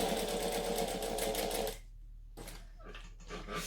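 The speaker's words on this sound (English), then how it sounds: "Back stitch. So I'm stitching up." A home sewing machine runs a back stitch along a seam, a steady loud rapid mechanical whir for nearly two seconds, then stops and restarts in short uneven bursts of stitching.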